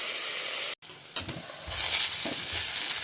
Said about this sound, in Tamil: நான் இதை கொஞ்சம் நேரம் மூடி போட்டு வதக்கிறேன்